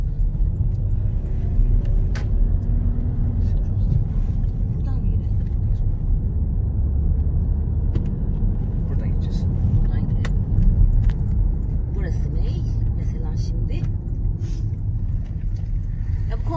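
Cars pass on an Australian street, a steady low rumble of traffic with engines swelling and fading close by while people talk over it.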